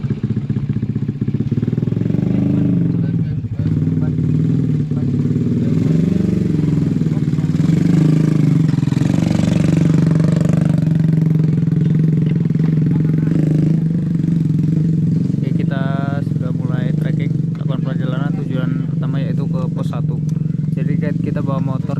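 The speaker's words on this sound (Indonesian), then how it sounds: "Kita bawa motor nyampe pos 1" A motorcycle engine hums steadily on the way to the first post of the Mount Sumbing trail via Bansari, a continuous mid-pitched drone that sits loud and close under almost constant talk.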